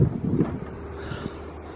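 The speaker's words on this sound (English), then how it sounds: "Oh, the wind. I love it." Wind gusts buffet the microphone around an abandoned ship, giving a low, rumbling rush that is loudest at first and then settles into a steady, softer blow.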